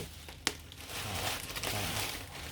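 Bubble wrap packing around an Otoko T-888 keyboard crinkles and crackles close by, opening with a sharp snap and continuing as busy rustling handling noise.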